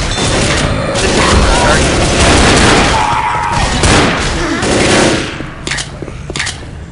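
Gunfire in the video game Left 4 Dead, loud overlapping automatic bursts and booms with heavy battle noise, easing into scattered shots near the end, while players talk over it.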